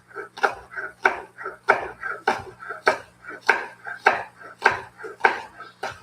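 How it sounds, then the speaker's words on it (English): Knife chopping stacked scallions on a cutting board in a steady, even rhythm of about ten sharp close thuds, each followed by a short scrape, loud and alone. "How I like to cut up my scallions is I just cut it in half, stack it up, and then finally chop."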